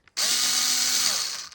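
A power drill whirs at high speed in one short, steady burst while removing Torx screws from a Dyson V10 vacuum, then winds down near the end.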